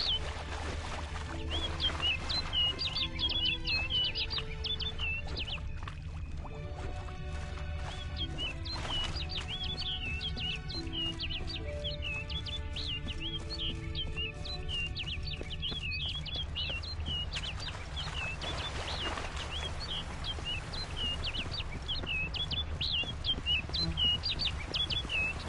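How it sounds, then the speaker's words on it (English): Bird chirping in The Witcher 3 video game, repeated short high tweets sounding in a regular rhythm over a low ambient hum and soft musical tones, moderately close and clear. "Looks like the bird's leading me somewhere."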